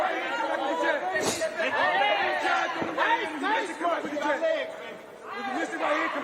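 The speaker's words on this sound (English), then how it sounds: "The crowd so respectful, polite, restrained, subdued" Subdued crowd murmur fills a sold-out boxing arena in Tokyo during a Naoya Inoue vs Stephen Fulton fight, a soft, steady chatter running beneath voices talking throughout.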